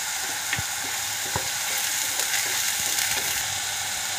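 Chicken sautés in a pan for a gravy masala, making a steady, close sizzle with occasional scraping clicks from stirring and no talking.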